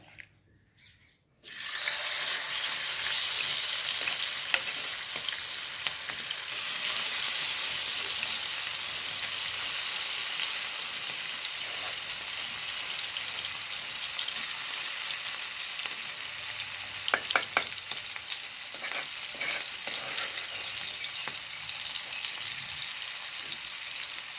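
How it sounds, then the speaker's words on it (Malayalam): Prawns frying in hot coconut oil give a loud, steady sizzle that starts abruptly after a short quiet moment and continues for about twenty seconds, with a few brief crackles near the end. "വെളിച്ചെണ്ണയാണ് ഇതിലേക്ക് കുറച്ച് ഒഴിച്ചു കൊടുത്തത് ഞങ്ങൾക്കതിലേക്ക് ചെമ്മീൻ ഇട്ട് കൊടുക്കാം കേട്ടോ"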